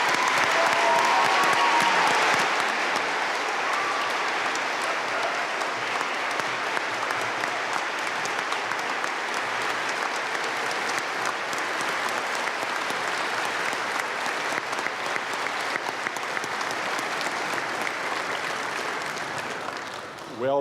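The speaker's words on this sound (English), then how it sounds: "Please join me in giving her a warm round of applause." An audience at a college commencement breaks into sustained applause, loud and full at first and then settling into a steady, even wash of clapping that carries on for about twenty seconds.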